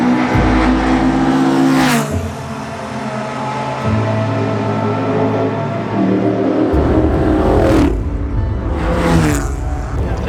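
A grey metallic prototype race car, number 11, idles and revs in the pit lane during a tyre change, its engine loud and close with sharp throttle blips, under a voice talking.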